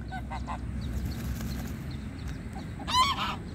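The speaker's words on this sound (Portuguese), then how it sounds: "Não sei se é ganso ou marreco que ataca, né?" Geese honk at a lake in Rolândia, with a few scattered calls early on and a louder burst of honking near the end over steady outdoor background noise.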